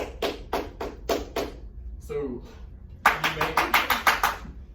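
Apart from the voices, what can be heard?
student clapping a rhythm, 3 groups of 2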